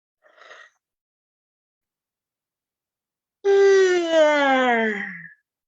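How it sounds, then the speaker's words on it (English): After a brief faint sound and silence, a person gives a long voiced yawn, a drawn-out falling moan lasting about two seconds, close and clear. "That was a yawn and sound."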